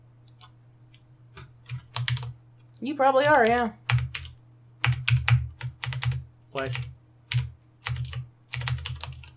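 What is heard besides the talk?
typing on a computer keyboard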